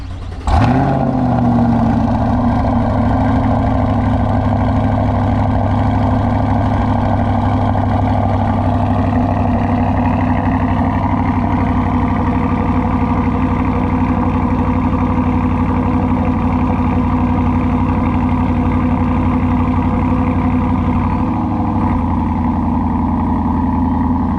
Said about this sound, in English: Final cold start of the C8.